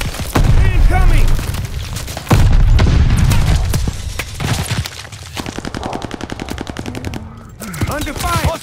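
Machine-gun bursts and heavy booms from Call of Duty: Vanguard combat, loud and close, with rapid rattling fire between blasts and radio-style voices calling out over the battle.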